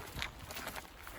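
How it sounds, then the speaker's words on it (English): Footsteps on an old, abandoned railroad trestle, a few soft irregular treads and scuffs heard close against a faint steady wash of creek water. "Obviously, we're walking along the old train trestle."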